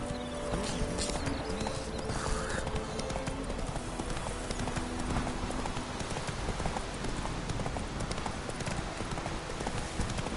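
The horse Roach galloping in The Witcher 3, heard as a dense, continuous clatter of hooves that stays loud and steady throughout, with faint rain-like noise underneath and no talk.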